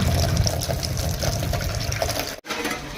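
Water running steadily and loudly into containers, a dense close gush with a brief cut-off near the end before flow resumes.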